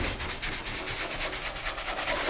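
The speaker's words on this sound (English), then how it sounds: "Went ahead and got that side sprayed down and scrubbed" Rapid rhythmic scrubbing strokes rasp against the sprayed-down top of a Ford Bronco, brisk and close, repeating evenly for a couple of seconds without speech.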